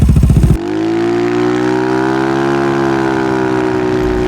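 An Italjet Dragster 300 scooter with an Akrapovič exhaust and Malossi Force Master parts cranks briefly with a rapid starter chatter, then catches and settles into a loud, close, steady idle with a deep throbbing drone.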